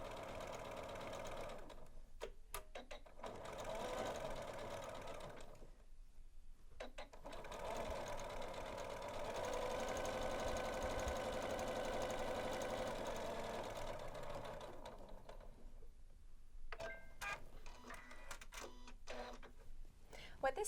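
A Janome sewing machine runs a blind hem in long, steady stretches broken by brief pauses, faint and close, with a person talking over it.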